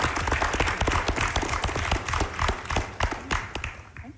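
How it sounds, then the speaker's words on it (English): Audience applause at an international security forum, a moderately sized crowd clapping with distinct individual claps audible in an uneven rhythm, fairly close and moderately loud without talk. "If you can give them all a round of applause."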